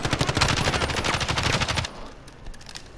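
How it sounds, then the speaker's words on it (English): Automatic weapon fire rattles in a Call of Duty Warzone trios match, a loud rapid burst of close shots lasting nearly two seconds before cutting off, followed by fainter scattered distant shots. "stop shooting at me"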